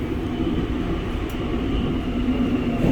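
A subway metro train in Busan runs steadily through the station, its continuous low rumble and rail noise loud and close throughout, with no talk over it.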